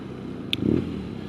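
A BMW R nineT motorcycle engine hums low and steady while riding along a river, faint beneath wind noise with a brief swell partway through.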